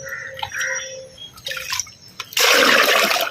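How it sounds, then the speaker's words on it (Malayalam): A cup of mixed, stirred water poured into a small container, a loud close splashing pour that starts suddenly and runs for about a second, following a few quieter clinks and small drips. "ഇനി ഇത് നമ്മൾ കലക്കിയ വെള്ളം 1 കപ്പ് ഒഴിച്ചാൽ മതി"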